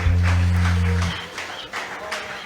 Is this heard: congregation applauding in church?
yes